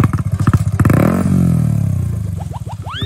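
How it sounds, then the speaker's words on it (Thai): A 125cc motorcycle engine cranks with a few clattering pulses, then catches and revs up loudly before settling into a steady close idle, with rising whine toward the end. "คือวิธีสตาร์ทรถเหรอ"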